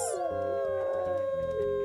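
Wolves howl during a rally in a video game, several overlapping drawn-out howls layered over one another, loud and sustained for the whole short moment with no talk.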